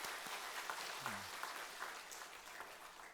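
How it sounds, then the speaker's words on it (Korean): Congregation applauding to glorify the Lord at a church dedication service, a faint, distant and even patter of clapping across the hall. "주님께 영광의 박수 한번 다시 한번 드리겠습니다."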